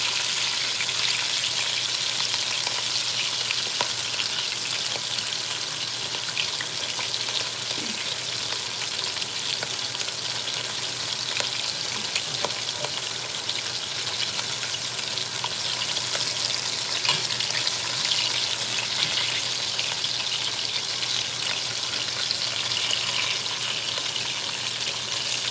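Beef browning in a pan ahead of braising, a dense, constant sizzle and hiss that holds steady for the whole stretch, close and loud, with no talking over it.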